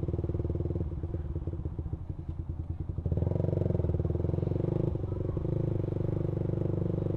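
Suzuki Satria injection motorcycle fitted with a racing exhaust, its engine revving up from a rough, pulsing idle into a louder, sustained buzzing rev, close and continuous.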